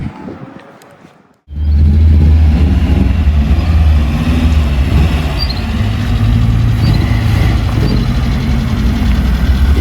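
A Nissan Champ bakkie pickup's engine starts after a brief quiet moment, then settles into a steady, loud, close idle that runs without pause.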